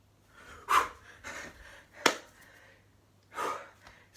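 Someone pants and gasps to catch their breath, close to the microphone, giving three or four heavy breaths with a sharp click between them and faint background hum, no speech.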